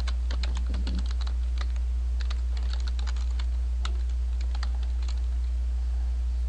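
Fingers typing a name on a computer keyboard while setting up an email account in Outlook, a steady run of close, crisp key clicks in irregular bursts, with no talking.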